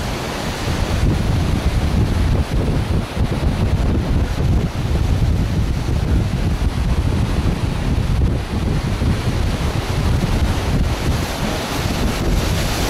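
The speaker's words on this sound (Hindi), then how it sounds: "इनके पास आ रही हैं बड़ी लहरें" Large sea waves surge and wash onto the beach at Fort Aguada, Goa, a continuous roar partly masked by heavy wind buffeting the microphone, with no one speaking.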